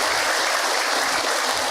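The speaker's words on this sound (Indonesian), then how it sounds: "Tepuk tangan buat orang Bogor." Audience clapping at a women's majelis taklim religious gathering in Bogor, a dense, steady burst of applause lasting under two seconds with no voices on top.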